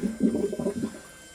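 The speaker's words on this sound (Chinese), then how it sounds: "它就会冲水" A handmade hidden toilet set under the floor of a tiny house flushes when a valve is opened. A short, soft gurgling rush of water lasts about a second and then dies away.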